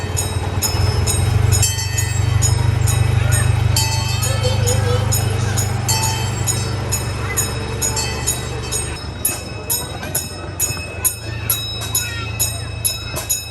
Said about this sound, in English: here is the entrance to the train. We're going to get on and take a ride.